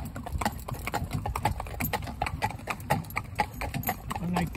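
Hooves of a driving stallion clip-clopping steadily on a hard surface as it passes loose mares, a brisk, even rhythm of close, distinct hoofbeats with a quiet engine-like hum underneath.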